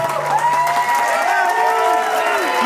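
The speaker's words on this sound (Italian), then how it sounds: "Applausi da Maxi per tutti i nostri grandi." Guests at a wedding dance applaud and cheer as the couple's song plays, the clapping and whoops sitting under sustained music with a moderate, lively crowd sound throughout.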